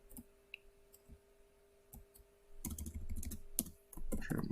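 Keys tapped on a computer keyboard while coding, a few sparse clicks at first, then a quick, dense burst of typing close to the microphone, with a steady faint hum underneath.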